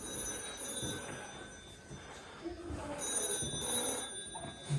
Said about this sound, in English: oh wow, the phone's ringing.